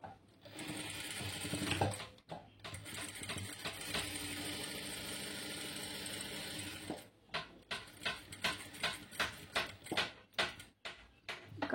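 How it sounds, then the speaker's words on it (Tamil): A sewing machine stitches lining onto fabric beside an invisible zip. It runs in a continuous mechanical whir, pauses briefly, then works in short rhythmic stop-start bursts. "இதை வந்து நம்ம ஸ்ட்ரைட்டாக ஸ்டிச் பண்ணிக்கலாம்"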